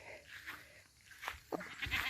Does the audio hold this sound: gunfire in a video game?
no